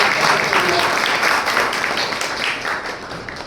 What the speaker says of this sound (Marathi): आपण जोरदार टाळ्या